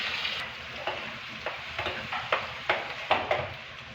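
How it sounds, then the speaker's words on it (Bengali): Fish frying in hot oil in a home kitchen, a steady close sizzle broken by repeated soft scraping and stirring strokes every half second or so. "মাছ ভাজা হয়েছে"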